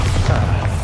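A Bombarda spell detonates in Hogwarts Legacy, a brief, heavy booming blast with deep low rumble, loud and close.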